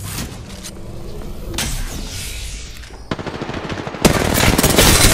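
Gunfire from weapons in the Apex Legends video game: bursts of rapid automatic shots, loud and close, growing denser and more sustained toward the end with no speech.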